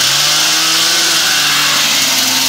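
1974 Ski-Doo TNT snowmobile engine screaming at high revs, a loud, raw two-stroke buzz with shifting pitch as the machine runs flat out close by.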